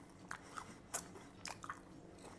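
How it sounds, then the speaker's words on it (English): Crisp crunchy bites into air-fried sesame chicken coated in honey, soy and ginger, several sharp close crackles spaced irregularly over quiet background chewing. "Listen to how crispy this is."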